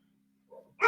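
A single short dog bark, sharp and close, preceded by a faint whimpering note, in an otherwise quiet indoor room.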